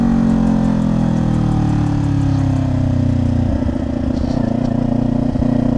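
A motorcycle engine with a loud, unbaffled LV-10 exhaust rumbles steadily up close, its deep throb shifting slightly partway through.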